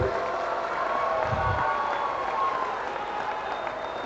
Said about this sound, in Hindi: जोर से ताली बजाओ हेमंत जी के लिए